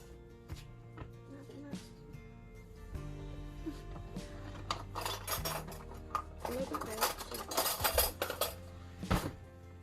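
A metal spoon scrapes and taps against a baking dish as an asparagus casserole is spread out evenly, with irregular clinks that grow busier toward the end, close and fairly quiet.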